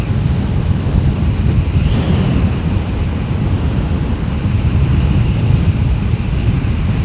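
Heavy wind rush roars over the microphone while riding a fast electric bike, a loud continuous low buffeting that holds steady from start to end with no voices.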